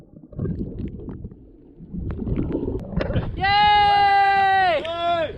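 An anchor chain is hauled in to pull a grounded yacht off a sandbank: a rough, rumbling mechanical grind builds over several seconds, then a loud, sustained cheering voice rises over it.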